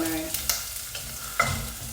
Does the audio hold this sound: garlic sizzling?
yes